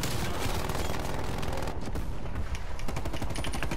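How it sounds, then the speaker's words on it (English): Sentry gun firing in Call of Duty Cold War on the Nuketown map, loud rapid automatic bursts with dense cracking shots continuing throughout, no talk. "Oh, that's a sentry gun."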